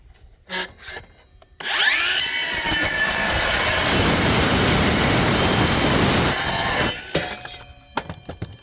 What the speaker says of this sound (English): how it cuts through a piece of stainless steel